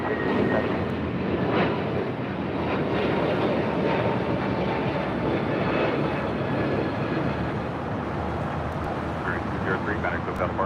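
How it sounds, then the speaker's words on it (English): Spirit Airlines A321neo taking off from runway 25 right at LAX, a steady broadband jet roar holding loud and close the whole time, with faint talk under the engine noise. "That was Spirit Airlines Flight 203 heading to Charlotte on their brand new A321neo"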